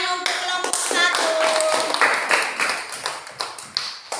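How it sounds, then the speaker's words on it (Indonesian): Classroom students clap for a group after a lesson presentation, a brisk burst of many hands loosening into scattered claps, with voices calling out over the clapping. "Oke, tepuk tangan untuk kelompok 1."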